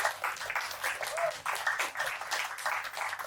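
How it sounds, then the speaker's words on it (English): A brief round of applause from a small studio group during a health and longevity talk show, steady and fairly soft with faint voices mixed in throughout. "please a round of applause for the viewers"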